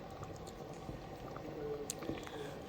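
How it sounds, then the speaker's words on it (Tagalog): Blackberry aronia berries simmer in a pot of water, giving a faint, steady bubbling with soft pops and small liquid squishes throughout, with no voices. "papakuluan po natin. Habang kumukulo po yan"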